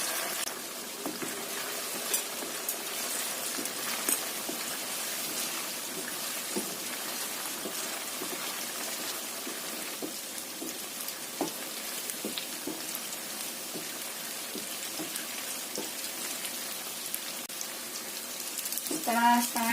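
Tofu frying in oil until half cooked makes a steady, even sizzle with scattered small pops and crackles, close and continuous throughout.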